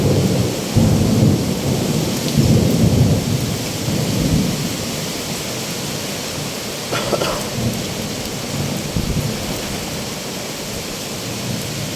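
Heavy rain pours steadily in Denizli, Turkey, while low thunder rumbles roll through, loudest near the start and then easing into a constant downpour.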